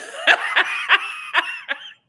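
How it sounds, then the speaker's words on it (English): A short run of about five dry coughs comes in quick, uneven bursts, close and fairly loud, then trails off into silence. "I'm gonna start coughing"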